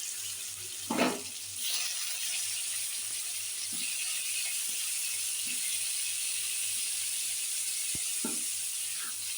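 Potatoes are added to a red chilli and white cumin tempering in hot oil, giving a steady, moderate sizzle with a few soft clinks and knocks. No one speaks.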